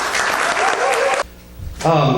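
Warm audience applause for a fellowship minister, loud and dense at first, cutting off abruptly into quiet before a voice begins speaking near the end.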